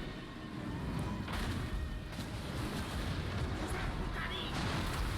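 Massed army fire in a Total War: Warhammer battle, Khalida versus Kroq-Gar, a dense continuous roar of rumbling gunfire and booms with scattered sharper cracks and no pauses.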